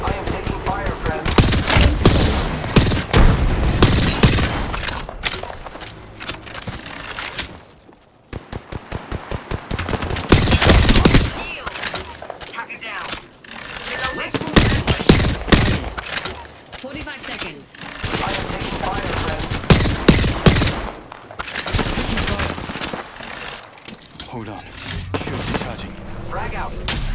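Apex Legends gunfire arrives in dense, loud volleys of rapid shots across a long battle stretch. Brief lulls break up the shooting, and voices and other game sounds mix in among the bursts.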